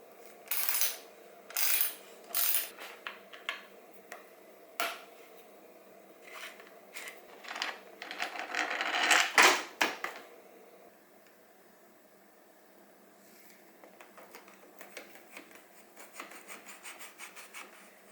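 Hand guards being removed from a Kawasaki KX65 minibike make close clicks, taps and rubbing scrapes, with a louder burst of rattling handling partway through, then faint fiddling noises and no talking.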